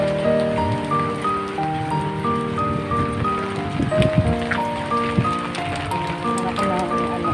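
Rain falling at a public market in Tagaytay, a steady wash of pattering drops beneath a bed of sustained tonal sound, with a few louder knocks mid-way.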